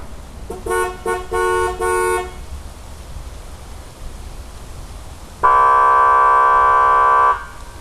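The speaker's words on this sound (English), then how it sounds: "that air horn is probably not the most social thing I ever installed" An electric air horn fitted to a 1991 GMC Sonoma pickup blasts four short bursts, then after a pause one long sustained blare, loud and close over faint outdoor background.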